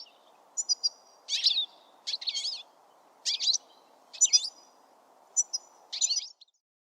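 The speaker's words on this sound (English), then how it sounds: "Goldfinch." Goldfinch song: a series of bright, twittering chirps and trills in short bursts, with a steady low hum underneath throughout, clear and close.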